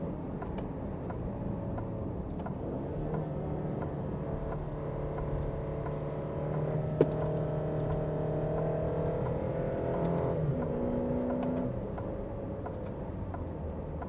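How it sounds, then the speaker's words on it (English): An SUV engine drones steadily from inside the moving vehicle, its pitch rising and dropping as it works up and down through the gears. "It's just so fun to go through the gears in this car."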